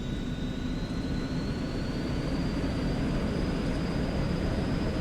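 Airplane engine throttling up in the X-Plane flight simulator game, a steady loud drone with a whine that rises slowly in pitch.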